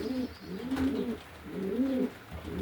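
Racing pigeons coo close by in a loft, giving soft, throaty, repeated rolling calls in a slow, regular rhythm, three or four phrases with brief quiet gaps between them.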